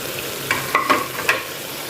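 Powdered spices fry with softened tomatoes for a chicken curry, a soft steady sizzle broken by a few short scraping stir strokes close by.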